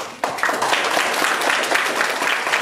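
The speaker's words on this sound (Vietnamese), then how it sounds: "Một tràng pháo tay chúng ta cùng dành tặng," An audience at a Buddhist temple event in Vietnam, during a Vesak vọng cổ performance, breaks into sustained applause, dense and evenly loud clapping that starts abruptly and carries on to the end.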